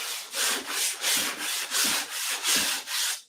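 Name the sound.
sanding wood by hand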